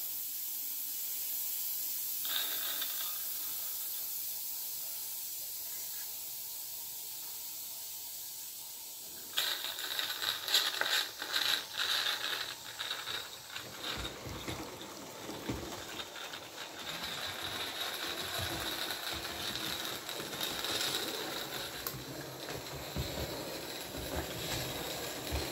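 A D Class model steam locomotive on its first steam test run: a quiet hiss at first, then a louder mechanical clatter of rapid clicking and rattling as it gets moving, continuing steadily at close range.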